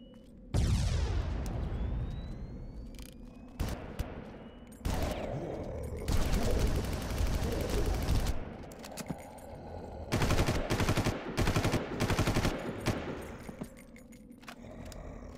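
Weapon fire in the video game Far Cry, a 40-round gun shooting in loud rapid automatic bursts separated by short pauses, with a ringing tail after the first burst and a few metallic reload clicks.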